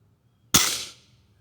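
A Walther Parrus .177 air rifle fires one sharp, loud shot right next to the listener, a single crisp crack with a short decaying tail in otherwise quiet surroundings.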